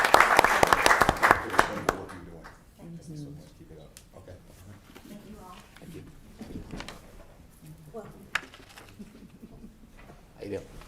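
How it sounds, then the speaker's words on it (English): A burst of clapping from a crowd at a town council meeting fades out within a couple of seconds, followed by scattered voices and room noise. "Round of applause as she makes her way."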